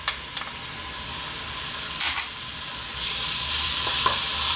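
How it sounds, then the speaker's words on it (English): Chopped onion and garlic sizzle steadily in olive oil in a pan at medium heat, a close, even hiss with a few brief clicks, swelling louder near the end. "Okay, so I've got my pan here, olive oil. We're going to drop in our onion."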